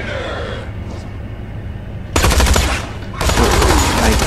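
Rifle gunfire in the Tales from the Borderlands video game, loud rapid bursts that cut in sharply twice over a low background rumble.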